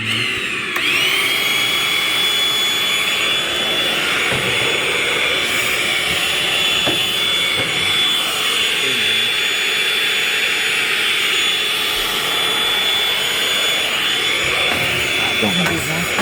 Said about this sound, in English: gonna be vacuum, make sure it's very clean.